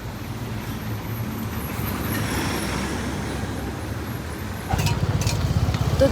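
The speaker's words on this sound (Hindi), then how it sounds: "मेरा आवाज़ आप लोग को कम सुनाई दे रहे होंगे क्योंकि इधर उधर ट्रैफिक है" Steady road traffic on a roadside near a shop somewhere between Guwahati and Meghalaya, a continuous low rumble of passing cars and other vehicles that swells louder near the end, with no talk over it.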